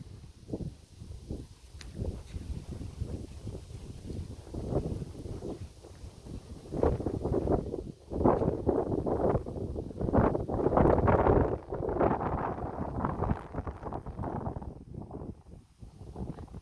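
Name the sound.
strong wind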